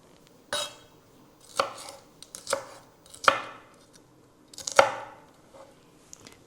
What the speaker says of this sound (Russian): На такие полосочки нарезаем.